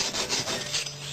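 A belt sander grinds down a canti post on a bicycle fork blade, producing a continuous close abrasive rasping that pulses slightly as the belt shapes the metal.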